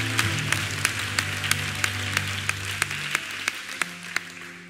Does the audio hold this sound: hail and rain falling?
no